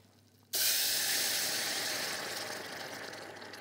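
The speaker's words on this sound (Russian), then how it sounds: "маслица у меня, видите, уже шипит с мукой" A sudden loud hiss erupts as butter and flour hit a hot pan, then settles into a steady, gradually softening sizzle.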